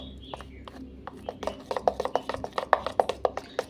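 A whisk or hand beats gram flour batter with soda and turmeric in a bowl for vada, producing quick, close rhythmic slapping and tapping strokes that speed up and grow louder.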